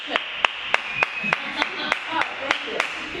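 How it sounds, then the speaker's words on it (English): A small comedy club crowd gives sparse applause: a handful of sharp, separate claps land roughly every third of a second, near and distinct, with a faint murmur of voices between them. "I can't see anyone, so applause,"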